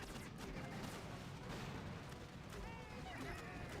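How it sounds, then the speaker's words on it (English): Boom cannons fire in the video game Boom Beach amid continuous dense booms and blasts of battle, loud and overlapping, with a few whistling streaks near the end. "Nothing to do about those boom cannons that are targeting me."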